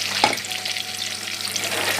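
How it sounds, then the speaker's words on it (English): Tomato sauce fries in a pan with a steady, loud sizzle, a brief clatter of stirring near the start, and no talking. "while it's frying now"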